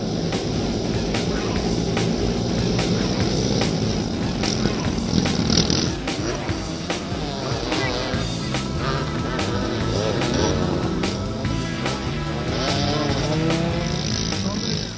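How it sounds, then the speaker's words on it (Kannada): Dirt track race motorcycles and cars at Moodbidri roar loudly and continuously, engines revving and droning past in overlapping waves, with the occasional high whine of a bike accelerating. "ಸ್ಪರ್ಧೆಯಲ್ಲಿ ಪಾಲ್ಗೊಂಡಿದ್ದ ರೈಡರ್ಸ್ ತಮ್ಮ ಬೈಕುಗಳನ್ನ ಭಾರೀ ಶಬ್ದದೊಂದಿಗೆ ಶಾರವೇಗದಲ್ಲಿ ಓಡಿಸುತ್ತಿದ್ರೆ"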